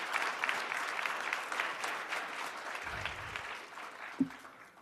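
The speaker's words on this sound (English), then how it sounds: "If you would just give them a final round of applause" Applause from a forum audience for the University of Namibia Choir, a steady, fairly soft round of clapping with a low thump near the end.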